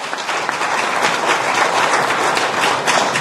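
Loud, sustained audience applause for Professor Nuwagaba after a talk on Uganda's economy, a dense, even crowd of clapping with no speech over it.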